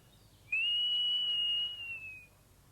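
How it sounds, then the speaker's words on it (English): A single clear, high whistled note held steadily for about two seconds in a quiet setting, with a slight dip in pitch at the end. "I'm whistling for the wind."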